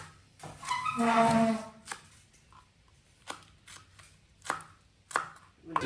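Shallots being chopped with a knife on a board, a few firm, separate cuts spaced out after a brief louder burst of handling, close and fairly quiet.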